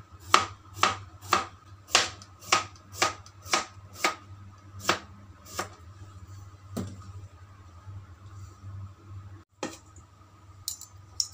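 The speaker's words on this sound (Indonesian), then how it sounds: "lalu kita potong tipis-tipis" A knife thinly slicing a washed, trimmed cucumber on a cutting board for a Greek salad, about a dozen crisp, evenly spaced chops close up, then a pause and a couple of later taps.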